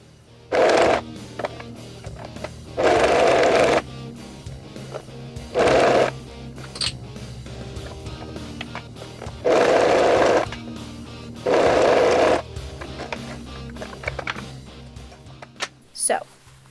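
Sewing machine stitching seams on slacks being turned into trousers, running in five short bursts of a few seconds each with quiet pauses between, close and fairly loud against a low hum.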